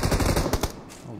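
A teammate's rapid automatic gunfire in a video game, with a close, loud burst of shots that tapers into a few scattered cracks.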